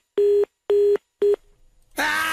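Three steady, evenly spaced telephone tones, each roughly a quarter second long, followed by a short pause and then a burst of broad noise. The tones come from a phone number being dialed during a Mexican radio comedy show.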